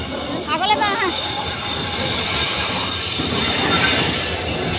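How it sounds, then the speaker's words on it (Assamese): A train pulls into a station with its wheels squealing in rising, wavering high tones over the steady rumble of the railcars, growing slightly louder as it draws near. "সেয়া ট্ৰেইন পালেহি"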